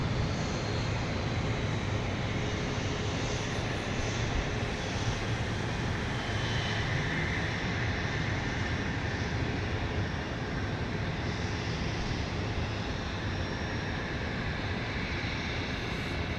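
A business jet taxis back to its hangar at Dallas Love Field, its engines giving a steady, continuous rumbling roar that holds even and unbroken from start to finish, with no voices over it.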